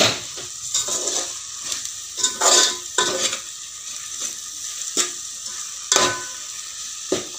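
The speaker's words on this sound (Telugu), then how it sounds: "కారం కూడా కొంచెం వేగనిద్దాం" Chili powder sizzles and fries in a pan for fish curry while a spatula scrapes and stirs it in short, irregular strokes, close and moderately loud, with no voices.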